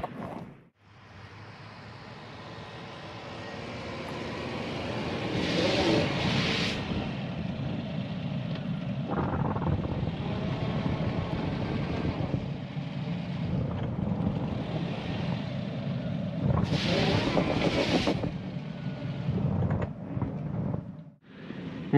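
A Moskvich-410N car straining to drive through deep snow, its engine roaring steadily and close for most of the time, with revs rising and falling as it pushes a drift in front of it.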